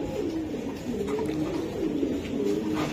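Racing pigeons in a loft give repeated soft, throaty coos in a continuous rolling series, close and moderately loud against quiet background noise.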